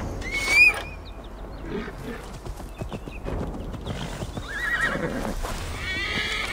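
Horse in Assassin's Creed Valhalla whinnies loudly near the start, followed by scattered hoof clops and game ambience, with faint voice sounds in the background.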